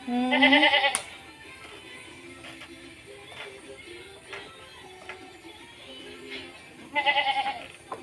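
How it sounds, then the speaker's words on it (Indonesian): Goats bleat in a village in Aceh as they are let out. Several loud, close bleats come at the start, a quieter outdoor stretch follows, and another burst of bleating comes near the end. "Mau lepas kambing? Oh, lepasin kambing."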